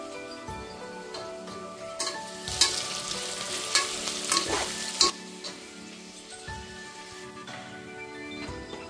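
Whole spices sizzle in hot oil in a pan for chicken biryani, with steady frying crackle and several sharp scrapes and clinks as a spoon stirs them. No one speaks.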